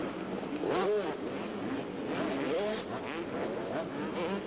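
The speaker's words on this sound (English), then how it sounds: "And it's 15-year-old Amber Hughes winning the women's Supercross race in San Diego." Motorcycles in a women's Supercross race in San Diego rev and accelerate around the track, their engines rising and falling in repeated pitch sweeps as a crowd and commentary murmur underneath.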